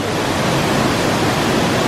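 Waterfall in a gorge in Bavaria, Germany, a loud, continuous broadband roar of rushing, crashing water, close and steady with no other sounds.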